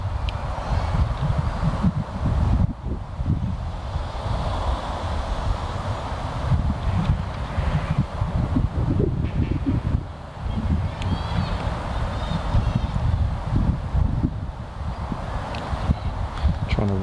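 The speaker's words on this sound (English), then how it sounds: "Wind blowing across at the moment." Wind blows outdoors at Barrs Court, buffeting the microphone with continuous low, gusty rumbling that rises and falls throughout.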